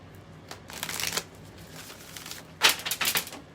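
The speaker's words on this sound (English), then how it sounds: "One more shuffle." A deck of tarot cards is shuffled close up in two quick riffling bursts, each a crisp flutter of cards lasting about a second, separated by a brief quiet pause.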